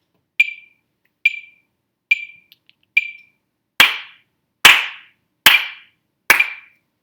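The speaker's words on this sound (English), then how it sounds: "So please, do the 4 beats of clap." Two sets of sharp, evenly spaced claps for a choir rehearsal: four lighter, brighter claps, then four louder, fuller ones, each crisp and isolated against silence.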